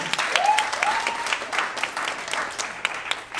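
Applause from a seminar audience, a moderate spread of hand claps with occasional sharper individual claps and a faint whistle, fairly close and lively.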